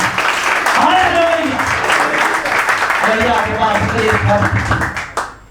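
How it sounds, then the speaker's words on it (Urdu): A church congregation claps loudly during an Urdu sermon, steady dense applause throughout with voices and shouts over it, fading at the close. "خدا کے نام سے زوردار تالی"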